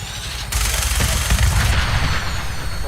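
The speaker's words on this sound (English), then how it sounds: "Somebody's shooting." Gunfire in Fallout 4 with Sim Settlements 2, a sudden loud burst of shots breaking in after a quiet start and rattling on steadily, fairly close.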